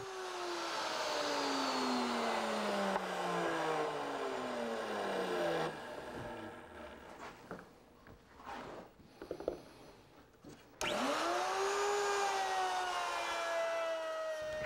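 A router bit cuts wood guided against a jig fence, a loud high motor whine whose pitch sags under load, then falls quiet with scattered clatter before the motor spins back up sharply.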